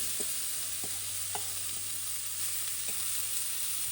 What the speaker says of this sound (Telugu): ఇప్పుడు కొద్దిగా ఫ్రై చేస్తున్నాను అనమాట